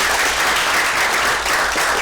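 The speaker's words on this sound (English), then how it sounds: "Let's give them a round of applause, please." Audience applauding club volunteers at an event, a dense, steady wash of clapping from a crowd that stays loud and continuous without pause.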